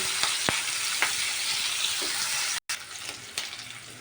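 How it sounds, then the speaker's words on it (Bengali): Onion and garlic fry in oil with a constant crackling sizzle, broken by a few sharp utensil taps and a brief dropout near the end. "আমার কিন্তু পেঁয়াজ রসুন প্রায় হালকা হালকা ভাজা হয়ে এসেছে"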